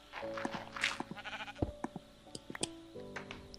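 Sheep in the video game Minecraft bleat repeatedly over a low steady game-music drone, the sharp bleats close and fairly loud, several in quick succession across the clip.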